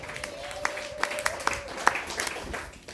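Church congregation applauding during a Swahili worship service: scattered sharp claps over a steady crowd wash, with a sustained high wavering cry running through the first half.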